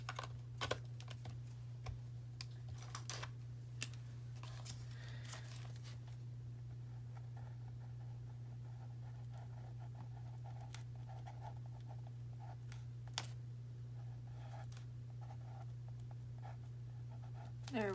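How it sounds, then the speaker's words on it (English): A pen writes an appointment by hand in a junk journal made from an altered book, with light scratching strokes and small taps up close over a steady low background hum. "I need to make sure I write my appointment back over the top here."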